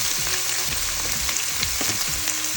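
Garlic frying in a pan, a dense continuous sizzle close up with faint scrapes of stirring underneath, no talking.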